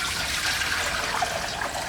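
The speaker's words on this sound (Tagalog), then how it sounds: "Naglagay tayo ng tubig sa ating wok," Water pours steadily into a wok in a home kitchen, a continuous close splashing and trickling rush that lasts about two seconds without talk.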